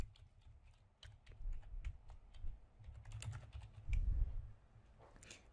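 Quiet, rapid clicking of keys on a computer keyboard, typed in short irregular bursts with brief pauses.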